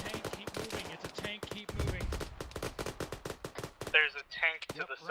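Gunfire in the Arma 3 video game, rapid bursts of close shots cracking in quick succession, then a short pause, then more scattered reports.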